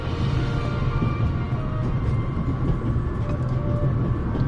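Train rolling along with a steady low rumble and faint rail clatter in The Raven Remastered video game, a continuous close drone throughout.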